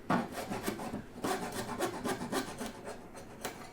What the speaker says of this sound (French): ça va vraiment pas me prendre longtemps d'enlever le surplus à la scie